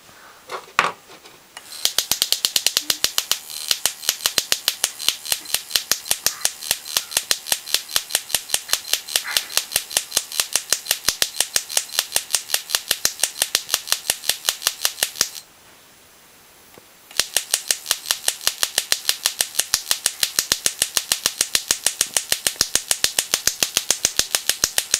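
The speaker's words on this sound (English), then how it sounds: "Look at that spark that jumps on that." A high-voltage flyback from an older TV drives a Jacob's ladder kit, throwing rapid, sharp crackling sparks in a fast, even train that stops briefly and then resumes. The sparks are loud and close, with no talking.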